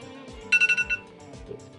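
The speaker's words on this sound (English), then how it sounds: "Had a timer for something going on." A timer alarm goes off during a Roblox tornado game, giving a quick run of five bright electronic beeps over a steady game background.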